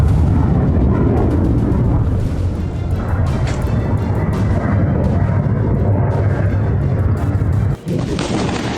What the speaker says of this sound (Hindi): राजधानी तेल अवीव में मिसाइलों ने बरपाया कहर।